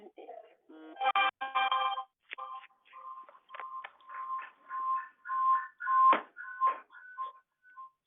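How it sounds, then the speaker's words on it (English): A telephone ringtone chirps in repeated melodic bursts during a community foundation meeting, fairly loud and close, with a brief pause between phrases. "I think that's your phone."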